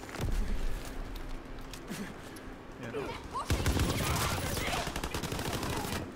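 Gunfire from the slow-firing Armored gun in Call of Duty: WWII on Xbox One X, spaced shots and bursts crackling over a busy battlefield, with someone talking over it.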